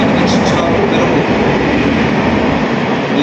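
A Howrah to Bengaluru express train rolls past a station near Kavali, a loud, close, continuous rumble of wagons and wheels with no pauses.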